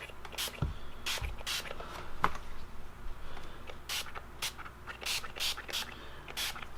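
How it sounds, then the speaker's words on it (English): Short hissing bursts of gun cleaner solvent spray from a nearby nozzle onto Tec-9 pistol parts, repeating several times with brief pauses and a few light knocks between them. "we're gonna take the solvent and we're just gonna spray down some of the parts"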